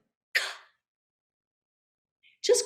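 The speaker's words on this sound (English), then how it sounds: "Now I'm going to gasp on an exhale." Two breathy exhaled gasps from a voice exercise, one short airy burst near the start and a second, more voiced gasp at the end, separated by silence and heard up close.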